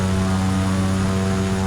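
An airplane engine in the Prepar3D flight simulator game drones steadily and loudly, a constant propeller-like hum with no voices over it.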